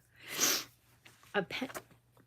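A single sharp sneeze bursts out, followed by a few quick sniffs and snorts close by.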